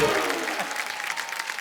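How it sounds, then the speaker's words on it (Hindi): A TV comedy show studio audience gives loud applause for performers playing a fake Bachchan family, dense clapping that starts strong and fades slightly over a short stretch. "एक बार नकली बच्चन फैमिली के लिए जोरदार तालियां।"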